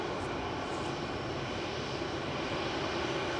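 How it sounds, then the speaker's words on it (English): EasyJet jet airliner lined up and taking off from Manchester Airport toward Amsterdam, a continuous heavy engine roar, dense and steady across the whole stretch, near and loud without talk. "lined up and ready to go now is EasyJet back to Amsterdam with flight"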